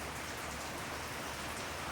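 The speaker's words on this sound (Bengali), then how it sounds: "আজকে ফের জোরে জোরে বৃষ্টি হচ্ছে, কারেন্ট চলে গেল।" Heavy rain falling in a dense, even hiss of countless drops striking surfaces, steady and unbroken throughout, heard alone without any voices.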